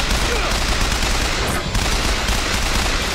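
Continuous rapid gunfire from a weapon in BioShock Infinite, loud and dense with no gaps, a brief dip midway before the shooting resumes.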